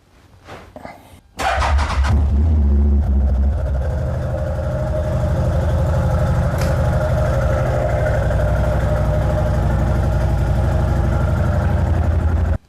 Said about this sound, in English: we're going to start the engine, let it run for a few minutes to get the oil circulated throughout the engine